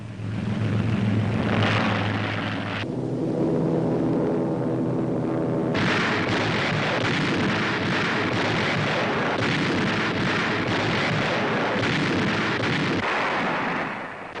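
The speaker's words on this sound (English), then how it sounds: "observers guide the American cannonading of Nazi forces in and around San Pietro" American artillery shelling Nazi positions in and around San Pietro on the Italian front during the Second World War: a dense, continuous roar of heavy guns and explosions, loud and unbroken throughout, with no voices.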